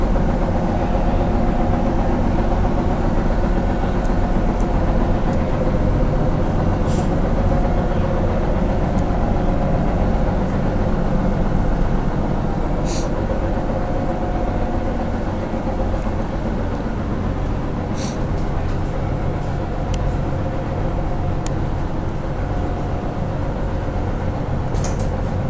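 Inside a 1966 GM New Look Fishbowl bus, the engine drones steadily while riding, a low constant rumble with occasional clicks and rattles over the whole stretch.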